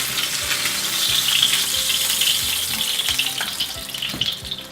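A chicken cutlet fries in a pan with a dense, steady sizzle and a bright crackle of spattering oil. Occasional low knocks sound from the pan, and no voices are heard.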